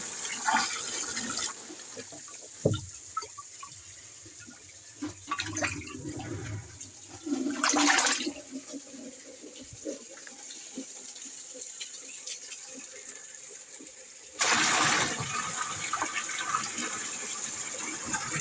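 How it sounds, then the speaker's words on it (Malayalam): Fresh water is poured into a bucket holding African catfish, splashing and gushing in several bursts with gaps between, close and fairly loud, with faint background noise. "അപ്പോൾ ഒന്ന് പുതിയ വെള്ളം ഒഴിക്കുകയാണ്."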